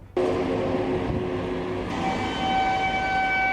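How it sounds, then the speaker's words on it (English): Loud, droning trumpet-like blaring fills the air, sustained and eerie with steady tones that shift partway through, echoing as if from high above. "The trumpets sound like a bad day at band practice"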